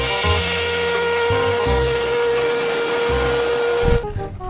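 A shrill, steady whistle from a red toy train sounds for about four seconds over a pulsing low rumble, then cuts off abruptly.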